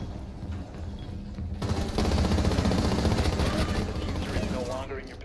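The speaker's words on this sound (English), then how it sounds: "Watch me shoot through my teammate!" Gunfire in Rainbow Six Siege: a sudden close burst of rapid automatic shots breaks out after a quieter start and keeps going for several seconds, with a voice speaking over it.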